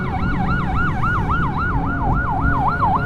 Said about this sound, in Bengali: ওই যে অ্যাম্বুলেন্স চলে এসে।